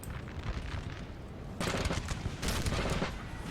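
Artillery and musket fire in a Napoleon Total War multiplayer battle: a dense, continuous rattle of distant gunfire rolls throughout, swelling into louder crackling bursts in the second half.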